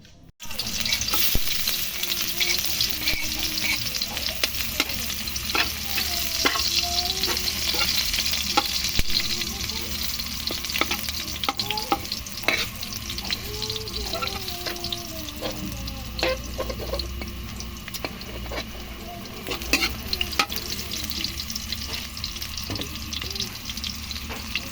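Bottle gourd (upo) cooks in a pan with a steady sizzling hiss and scraping stir strokes, punctuated by light clinks, continuous and close, with a voice faintly present at times.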